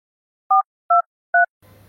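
Three evenly spaced phone keypad dialing beeps sound in the Sakura School Simulator video game, clean and loud, followed by a faint low hum.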